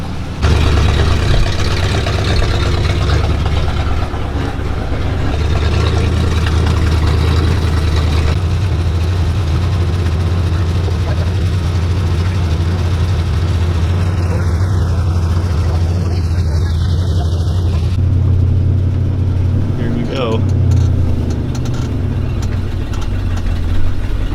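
A restored 1986 Ford F250 pickup drives with a steady low engine drone and road rumble, loud and continuous from start to end, with a brief shift in tone near the end.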